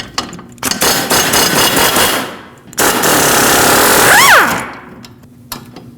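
A wrench with a 19 mm socket loosens a strut bolt on a 2006-2015 Lexus IS250 rear strut, producing two long, loud, harsh rattling bursts close by, separated by a short pause and ending in a few scattered clanks.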